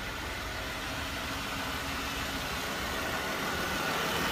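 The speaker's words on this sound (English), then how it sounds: "A V6 engine." A 2015 Jeep Rubicon's V6 engine idles steadily at close range, a continuous even rumble that stays level for a few seconds with no voices over it.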